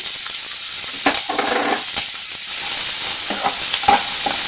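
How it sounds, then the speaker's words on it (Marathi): Chopped onions and capsicum sauté in hot oil for a creamy chicken sandwich filling, giving a steady loud sizzle with a few scraping stirs of a spatula, no talking. "हे कांदे आपल्याला थोडे परतून घ्यायचे तेलामध्ये। आता मी त्यात सिमला मिरची घालतीये।"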